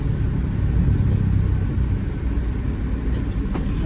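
Steady, close road-traffic rumble on a drive through Manila from Valenzuela toward North Port, with a continuous low engine drone and tire roar that stays constant throughout.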